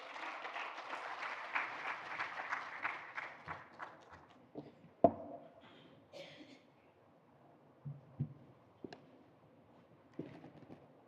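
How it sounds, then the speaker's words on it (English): Applause from an audience at a business forum as a CEO comes onto the stage, fairly faint and distant, fading within about four seconds into scattered thuds and stage noises. "A round of applause for him"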